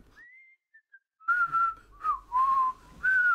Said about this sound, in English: Who's whistling right now?